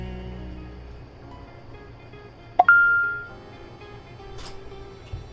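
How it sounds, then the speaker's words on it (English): A phone gives a short text message alert, a sharp electronic tone followed by a brief sustained note, with a faint second blip shortly after, heard alone in a quiet room. "But the next morning I got a text message."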